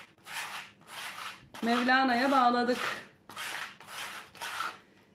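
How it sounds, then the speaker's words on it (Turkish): Rhythmic rasping strokes of sandpaper on a knitted shoe sole, about six even passes close by, with a voice speaking briefly in the middle. "Şimdi zımpara işimiz bitti."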